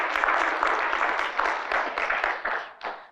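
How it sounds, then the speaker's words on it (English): A church congregation gives a brief round of light, scattered hand clapping during a sermon. The claps are moderately close, thin out toward the end and finish with a few last isolated claps. "That's a weak hand clap for real."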